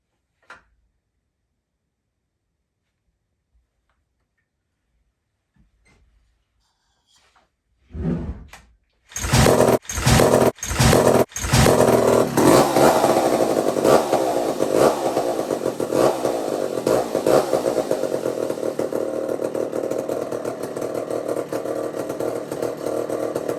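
A big, heavy McCulloch 440 chainsaw with a repaired carburetor sputters through a few pulls and catches, then runs loud and steady at close range. Its engine note stays full and even until the end, with no talk over it.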